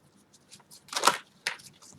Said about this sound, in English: having a hard time shuffling